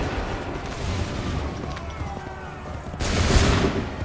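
Musket volley in Assassin's Creed 3: a dense crackling rumble of massed gunfire over battlefield din, swelling into a louder, brighter burst near the end.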